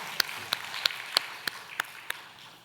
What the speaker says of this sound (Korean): 우리의 찬양을 받으신 하나님께 영광의 박수 올려드릴까요?